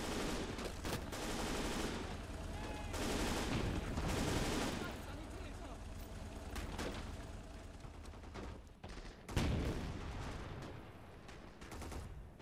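Dense battlefield gunfire in the Gates of Hell strategy game: rapid machine-gun bursts and rifle shots crackling in clustered volleys with a sharp louder blast near the end, under intermittent game voices.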